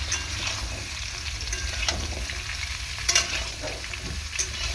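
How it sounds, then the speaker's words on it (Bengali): Mixed vegetables frying in oil for shukto, a steady close sizzle with occasional scrapes and clinks from stirring. "দিয়ে তেলের মধ্যে ভালো করে সবজিগুলোকে ভেজে নেব"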